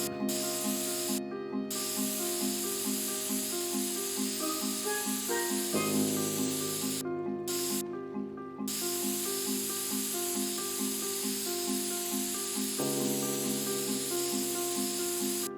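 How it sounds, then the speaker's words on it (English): A continuous hissing spray sound from The Sims 3 while building runs unbroken across the stretch. Looping game music plays beneath it, and no one speaks. "It's ear grating to listen to the spray sometimes."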